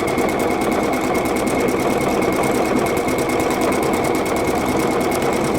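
A PFAFF Creative Icon sewing machine runs steadily, its needle chattering in a fast, even rhythm as it stitches stacking stitches into fabric, close and constant throughout.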